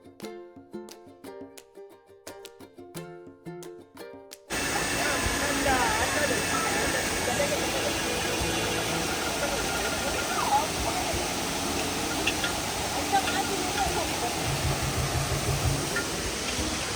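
Rushing water from a waterfall in Goa, a steady loud broadband roar that fills the clip after a few seconds of music at the start.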